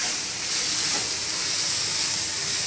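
Chilli powder and methi sizzle steadily in a hot pan as they are stirred, giving a close, continuous frying hiss with no talking over it.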